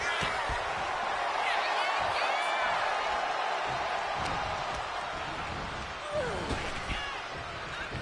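Crowd noise fills the arena in WWE 2K25, a steady roar with scattered whoops and thuds, heard under a commentator talking.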